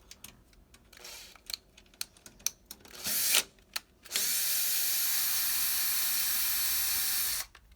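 A power drill removes screws from a Toshiba eStudio 55 series fuser drive: a few clicks and brief bursts, then a steady, loud whir that runs close up for about three seconds before stopping.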